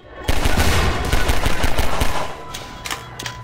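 A USP pistol in Half-Life fires at explosive barrels, a quick string of loud, sharp gunshots followed by sparser, fainter reports as the shooting tapers off.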